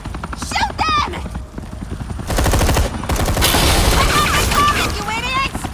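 Gunfire in the Batman: The Enemy Within video game comes as dense, loud bursts of rapid shots, mixed with booms and shouting voices.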